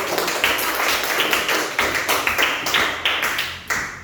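Applause from a classroom audience after a group's social studies presentation, a dense patter of hand claps with irregular stronger bursts, continuous and fairly close throughout.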